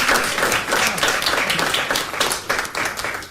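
An audience at a political event bursts into dense, sustained applause, many hands clapping loudly and continuously with little else heard.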